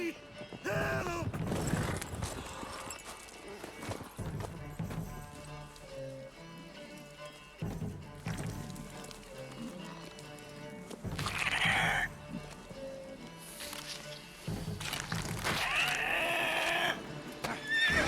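A horse in The Witcher video game whinnies and clops with creaking tack, in loud bursts amid game music and effects, with a voice talking briefly.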